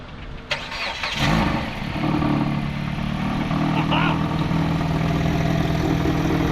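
A 2014 Dodge Avenger with a newly swapped starter cranks briefly, catches and settles into a steady, close idle in a hot parking lot.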